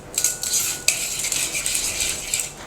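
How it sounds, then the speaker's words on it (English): A spoon stirs an olive oil and salt marinade in a bowl, quick close metallic clinks and scraping strokes in an uneven rhythm, with no talking. "Now stir it very well,"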